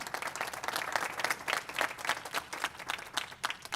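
Steady audience applause at a fast pitch competition in Hemet-San Jacinto, a dense, sustained patter of many hands clapping throughout, moderately loud with no pause.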